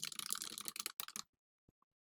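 Rapid typing on a computer keyboard, a close and dense burst of key clicks that stops abruptly, followed by near silence with a couple of faint isolated clicks.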